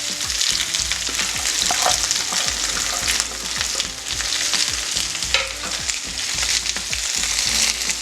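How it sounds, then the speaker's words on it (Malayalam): Chopped onions fry in hot oil in a pan for a mushroom biriyani, sizzling loudly and steadily up close, with repeated scraping stir strokes throughout and no talking. "ഇനി അതിലേക്ക് നമുക്ക് ഉള്ളി അരിഞ്ഞു വെച്ചത് ചേർക്കാം."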